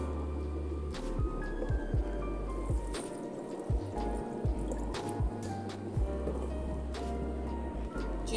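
Plain water poured into a vessel of falsa berries while making sharbat, giving intermittent trickles, drips and soft splashes with occasional clinks against the container over a constant low hum.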